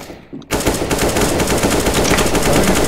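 Sustained automatic gunfire in Counter-Strike: Global Offensive bursts in loud and near after a brief quiet start, rattling continuously for a few seconds with no pause.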